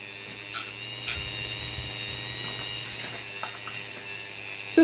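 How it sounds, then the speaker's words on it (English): A small rotary polishing tool buffs away leftover two-part epoxy glue on a custom 3D resin light, giving a steady high whine with brief scraping touches against the resin, close and alone. "Just polishing where the glue was."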